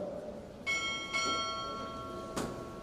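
A ship's bell at a navy pinning ceremony, struck two times in a quick pair of ringing metallic clangs with a long shimmering ring, followed by another strike.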